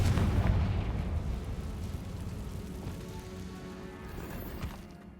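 A Confringo fire spell explodes in the Hogwarts Legacy video game: a heavy, close blast opens at once, then decays into a rumbling, crackling tail of debris that fades over several seconds, with no voices over it.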